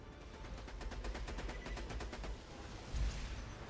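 Rapid automatic gunfire in the video game Borderlands 2, a fast even stream of shots at moderate level that stops briefly and ends with a heavier low thump.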